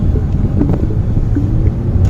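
A Mahindra XUV700 engine runs as the SUV drives through a busy junction with construction nearby, giving a steady low rumble and a constant hum with wind noise.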